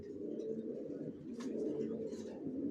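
A pair of young black checker racing pigeons cooing softly, a faint, low, continuous burbling with slight swells and no other sounds over it.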